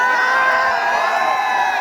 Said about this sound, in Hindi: भीड़ इतनी ज़्यादा हो गई है कि उनको छत पे जाना पड़ा